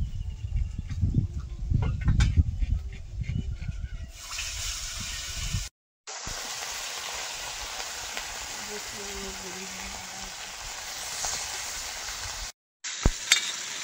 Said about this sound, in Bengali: আর বাকি মাছগুলো ভেজে নেব।